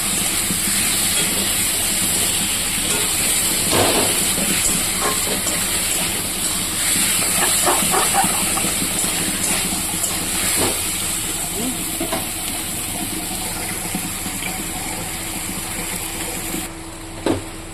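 Water heats in a pan of vegetable curry with fried potatoes, a loud continuous steamy hiss and bubbling sizzle close by, with faint speech in the background.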